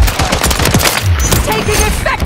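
Rapid, loud automatic gunfire in Call of Duty multiplayer, a dense close fusillade of overlapping shots filling the whole moment with no pauses.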